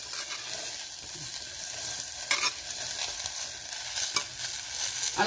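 Ridge gourd pieces frying in oil inside a pressure cooker on a gas stove, a low continuous sizzle broken by a few sharp stirring clatters, close and without talk.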